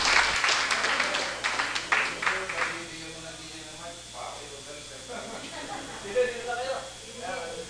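Applause from a council session audience, a dense burst of clapping that is strongest at the start and then thins into scattered claps under ongoing talk and room noise.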